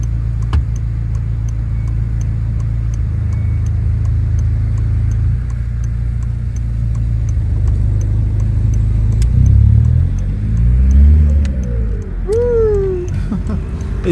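A Volkswagen Passat with over 300,000 km and stage 2 tuning drives along with a steady engine drone from inside, then accelerates with rising engine pitch near the end.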